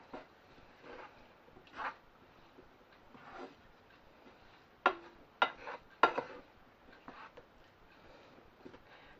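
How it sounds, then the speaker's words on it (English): A spoon stirring boiled potatoes through leeks in a pan: a few quiet shuffles, then three sharp scrapes and knocks in quick succession, faint and close, with no talking. "And give them a stir through the leeks."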